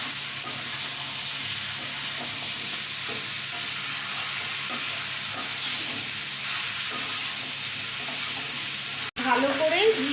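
Ridge gourd and potatoes frying in a pan, stirred with a spatula over a steady close sizzle, with scraping strokes throughout and a brief break near the end.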